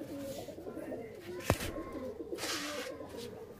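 Pigeons of a fancy breed coo softly inside a loft cage, low throaty calls rolling continuously against a faint background, with a brief sharp knock partway through.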